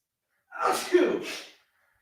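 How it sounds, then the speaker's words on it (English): A single loud sneeze up close, with a sharp intake of breath followed by the burst, then silence. "I got to sneeze here."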